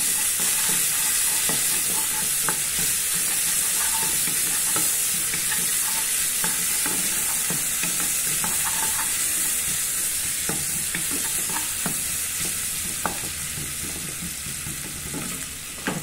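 Onion fries in a pan with a loud, continuous close sizzle and hiss, broken by frequent clicks and small scraping stirs, fading slightly toward the end.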